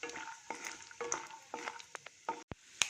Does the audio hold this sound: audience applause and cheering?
no